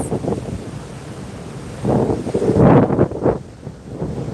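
Blustery wind buffets the microphone at a beach while sea waves rumble and surge in low swells underneath, rising to a louder wash midway.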